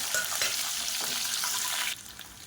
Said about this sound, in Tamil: ஒரு கைப்பிடி அளவுக்கு சின்ன வெங்காயம் பொடியாக கட் பண்ணதை சேர்த்துக்கலாம்